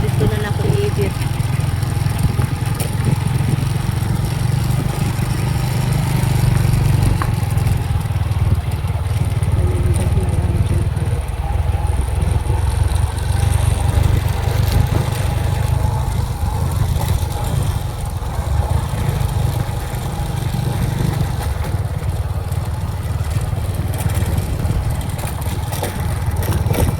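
A motorcycle engine runs steadily on a banana plantation road in New Corella, Davao del Norte, its mid-low drone and rattling clatter continuous throughout, with someone talking briefly over it.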